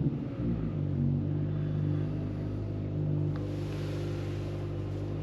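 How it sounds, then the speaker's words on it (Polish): Steady low engine hum from inside a 2022 Kia Ceed GT in sport mode, a constant droning rumble that holds for several seconds with no voices. "Włączmy tryb sport. Słychać, że już buczy bardziej."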